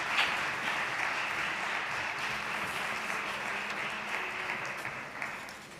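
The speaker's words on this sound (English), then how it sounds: "Big round of applause." Audience applause at an institutional closing ceremony, a steady, moderately faint clapping from a large crowd that holds for several seconds and slowly fades.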